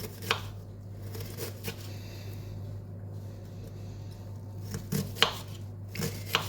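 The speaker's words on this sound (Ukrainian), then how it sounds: "Теж як можна меншими шматочками нарізаємо, кубиками" A knife chops food into small cubes on a cutting board, giving soft scattered taps over a steady low hum, with a few sharper cuts clustered near the end.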